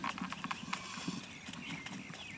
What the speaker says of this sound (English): He's kind of hearing the horse coming out of the trailer.